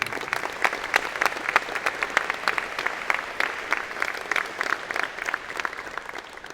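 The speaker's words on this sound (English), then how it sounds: "Let's give our student leaders a big round of applause." Sustained audience applause for student leaders at a college of engineering and computer science convocation, dense steady clapping from a large crowd throughout, no talking.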